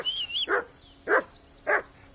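Dog barking in the video game Kingdom Come: Deliverance II, three separate close, moderately loud barks spaced about half a second apart, with a brief higher whine just before the first.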